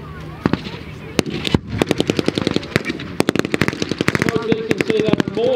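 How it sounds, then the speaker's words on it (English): Mortars and gunfire in a staged battle at a military vehicle show, with rapid loud bangs and cracks in dense bursts at mid distance and a voice talking over them. "Mortars being fired."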